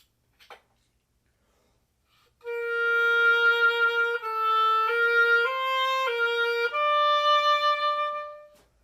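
After a soft tap, a saxophone slowly plays a 16th-note passage as a sequence of sustained notes, moving stepwise in pitch. It is clear and close, with no voices.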